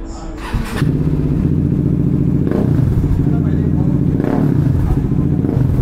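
Bajaj Dominar V1 motorcycle fitted with an Alpha aftermarket exhaust, its engine catching and settling into a loud, steady, throbbing idle with two brief rev blips, recorded up close.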